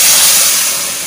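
Water poured into a hot pan of taro stolon curry with prawns gives a loud, close, broad hissing burst of steam that fades slightly over a second.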